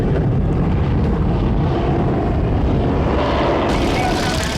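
A restored Fokker D7 single-seat WWI biplane flies at Old Rhinebeck in New York, its engine a loud, continuous, rough roar that fills the whole stretch without a break.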